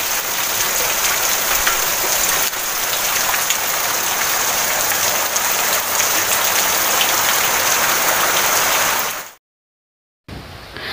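Heavy monsoon rain pours down in a dense, steady roar for about nine seconds, then cuts out briefly before resuming; no one speaks.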